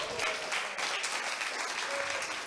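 An audience at an evening farmers' charity gala applauds steadily, a dense, continuous patter of many hands at moderate volume with no pauses.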